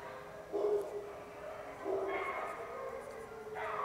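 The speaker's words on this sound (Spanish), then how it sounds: "Es que aquí a veces empiezan a oírse muchos perros, no sé si los alcanzan a oír a la distancia." Several dogs bark and yelp in the distance, faint bursts at irregular intervals under a quiet room tone.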